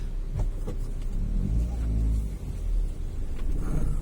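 A Toyota Corolla AE92 with a 1600cc 4A fuel-injected engine rumbles low and steady while reversing, nearby, with a few faint clicks over the idle.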